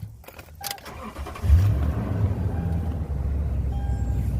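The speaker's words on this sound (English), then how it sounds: "Go ahead and turn your vehicle on" A 2007 Toyota Tundra V8 cranks and catches, a brief starter whine giving way to a steady low idle rumble close by, with a short jingle of keys just before it fires.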